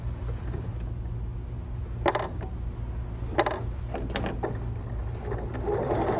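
A sewing machine hums steadily as it stitches quilt fabric pieces, with a few louder mechanical clicks and clatters scattered throughout, heard close and without talk.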